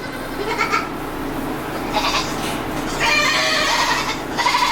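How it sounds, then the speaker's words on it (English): Several goats bleating in a pen, repeated wavering cries overlapping one another over a constant barnyard background, fairly close and loud. "We've moved some goats around in the last couple of days, so they're a little bit noisy now."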